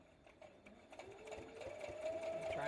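A home sewing machine stitches a quilt close to its edge, a soft steady whir of rapid needle strokes that grows louder and more even toward the end, with no talking.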